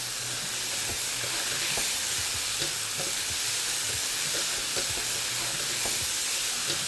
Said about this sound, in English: toss the vegetables around in the stir-fry sauce